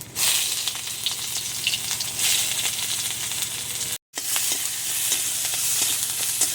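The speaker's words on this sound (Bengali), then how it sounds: "পেঁয়াজ কুচিটা একটু নেড়ে চেড়ে ভেজে নেব" Chopped onion frying in hot oil while being stirred, a loud, steady, close sizzle that carries on throughout, broken once by a brief silent gap.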